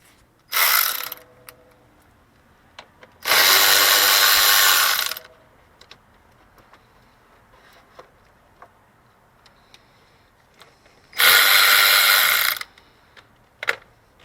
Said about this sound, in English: we're going to take off this intake boot. It's a 10 millimeter.